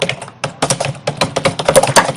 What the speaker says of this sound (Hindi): मुझे चाहिए कि और अच्छे से आवाज आए कीबोर्ड टाइपिंग की